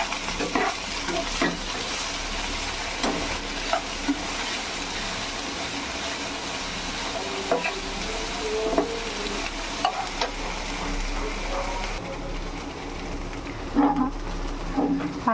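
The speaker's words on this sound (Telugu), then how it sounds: "ఈ ఫ్రై అయ్యాక బెండకాయ ముక్కలు వేద్దాము" Oil and tempering sizzle steadily in a pan for an okra fry, with scraping and stirring sounds throughout, all close and even, with no talking.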